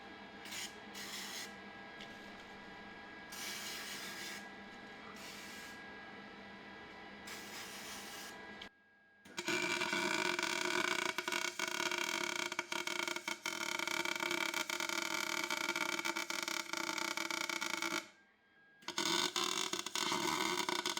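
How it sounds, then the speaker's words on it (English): MIG welding on an E36 project car's differential work, a loud continuous buzzing crackle from about 9 to 18 seconds with a short break, preceded by quieter intermittent hissing and rubbing. "Turn on the MIG welder. And yeah, get to welding."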